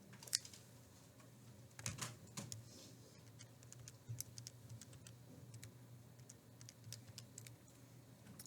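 Quiet, scattered clicks of keys being pressed as numbers are punched into a calculator, with irregular light taps spread over a faint background hum.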